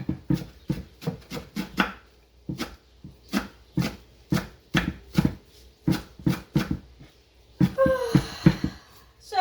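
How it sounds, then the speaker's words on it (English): A knife chopping onions and parsley on a board, steady rhythmic close taps at a brisk pace, followed by a brief scraping and rustle at the end. "Now I'm going to chop this also."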